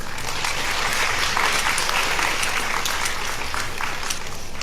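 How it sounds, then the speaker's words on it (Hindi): Audience at a university talk applauds steadily in welcome, a dense, even wash of many hands clapping that continues without a break at moderate loudness. "जोरदार तालियां।"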